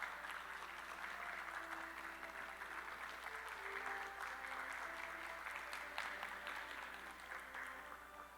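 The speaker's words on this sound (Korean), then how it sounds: "박수로 환영해 주십시오." An audience at a conference session applauds to welcome a speaker to the stage, a fairly quiet, steady patter of clapping that continues throughout, with a low hum in the background.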